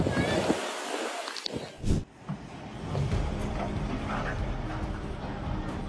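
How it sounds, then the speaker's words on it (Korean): Tourist boat out at sea in a violent storm, with broad, rough wind noise battering the microphone, sloshing waves and a few sharp thumps, loud and continuous throughout. "거센 폭풍이 몰아치면서 관광객들의 바다 위 하루는 더할 나위 없이 최악이었습니다"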